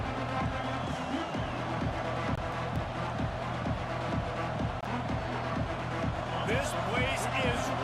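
Stadium crowd roaring throughout a college football video game, Michigan at Washington, a dense and steady wall of noise with regular thumping drum-like beats running under it.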